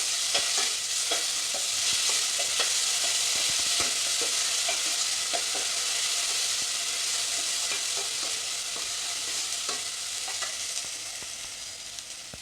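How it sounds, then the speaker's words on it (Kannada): Cumin seeds and ginger garlic paste frying in a pan, giving a loud, steady hissing sizzle with faint stirring scrapes that eases slightly toward the end. "ಈಗ ಮೊದಲು ಸ್ವಲ್ಪ ಜೀರಿಗೆನ ಹಾಕಿ, ಸ್ವಲ್ಪ ಶುಂಠಿ ಬೆಳ್ಳುಳ್ಳಿ ಪೇಸ್ಟ್, ಇದು ಚೆನ್ನಾಗಿ ಹುರ್ಕೊಬೇಕು"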